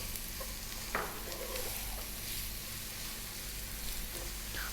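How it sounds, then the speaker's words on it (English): Olives and garlic sizzling in oil in a frying pan, a soft continuous crackle and hiss with a few faint clinks as the food is stirred, quiet and close. "I'm also going to drop in my olives now."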